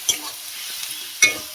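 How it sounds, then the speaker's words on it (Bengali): Spice mix with chili powder and salt being stirred and fried in a pan, with two sharp scraping stirs over a faint steady sizzle. "পরিমাণ মতন লবণ দিয়ে ভালো করে আমি এটা মশলাটা কষিয়ে নেবো যাতে মশলার কাঁচা গন্ধ না থাকে"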